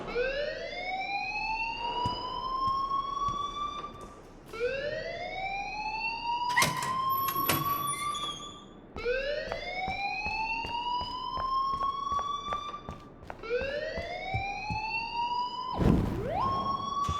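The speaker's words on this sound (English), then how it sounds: "please turn off that alarm since that's your job" A wailing electronic alarm in the video game Life Is Strange sweeps upward again and again in a steady cycle, loud and continuous, with scattered clicks and knocks underneath.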